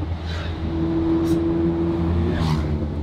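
A 370 hp VW Golf 7R with a Poppenborg exhaust and valves idles and revs with a low droning hum, giving two sharp pops about a second apart, one near the middle and one near the end.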